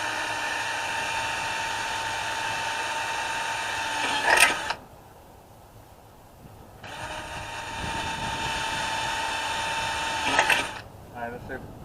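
A power drill whirs steadily in two long bursts while drilling holes for a backyard fence installation, pausing briefly in between, then winds down near the end.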